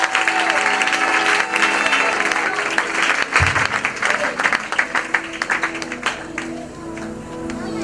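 A church congregation applauds and acclaims the Lord, with dense clapping and crowd noise filling the space. Voices rise through it before the clapping thins toward the end.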